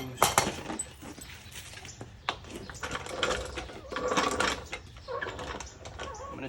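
Close-up clicking and ratcheting from a wrench on 21 mm wheel nuts as they are cracked loose for a brake pad and rotor change, with irregular mechanical clacks and scrapes throughout.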